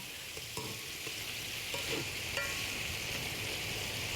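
Shrimp fry with a steady, loud sizzle in a pan while a utensil pushes them around, scraping and tapping now and then as larger pieces move to the center and smaller ones to the edges, for a sweet and sour shrimp dish.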